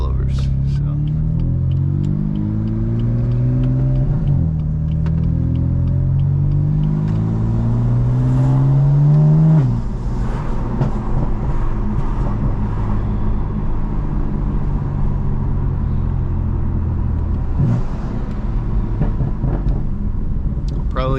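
A BMW M4 on a drive through town, its engine rumbling and revving through rising gears over steady road and tyre noise, with someone talking over the drive.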